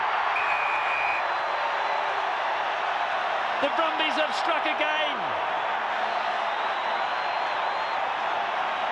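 A rugby stadium crowd at a 1997 Super 12 match roars steadily through the whole stretch after a Brumbies score, while a commentator talks over it.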